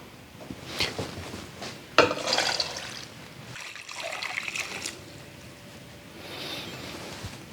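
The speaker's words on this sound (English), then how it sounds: "Now we're going to add 10 cups of water to this." Water is poured from a container over hickory bark in a pot, splashing and trickling up close in a few uneven bursts.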